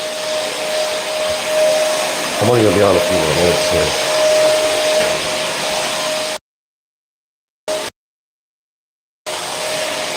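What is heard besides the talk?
vacuum cleaner running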